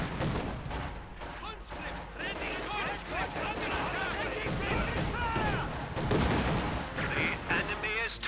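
Artillery bombardment and gunfire in Company of Heroes 2 keep up a busy, continuous clatter of shots and distant blasts throughout. A commentator talks over the battle.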